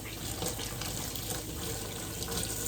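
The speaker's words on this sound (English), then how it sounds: "Wash my hands again." A kitchen tap runs steadily as hands are washed under it, a continuous close splashing of water with no talk.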